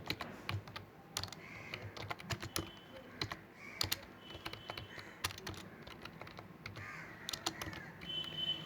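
Close, quick clatter of a computer keyboard as a command is typed, the keystrokes in uneven bursts with short pauses and crows cawing faintly in the background.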